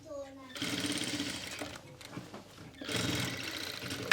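A sewing machine stitches a pheran, running in two loud close bursts of fast, even whirring with a brief pause between them, while someone talks over it.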